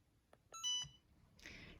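A Cricut heat press gives a short series of beeps, a few faint pips followed by a louder steady electronic tone, then a burst of rustling noise, close by with no talk.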